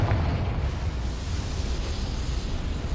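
A Confringo fire spell explodes in Hogwarts Legacy, a loud blast at the start followed by a sustained rumbling roar that stays strong and fairly even to the end.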